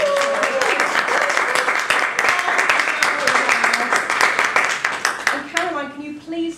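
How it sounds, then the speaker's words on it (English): A live audience at a sketchnoting creativity talk breaks into sustained, dense applause, loud and continuous for several seconds before thinning out as a voice begins speaking. "That deserves a massive round of applause."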